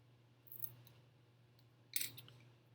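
A thin wooden truss piece for a model bridge being cut, two short crisp snips about a second and a half apart, close and quiet over faint room hum.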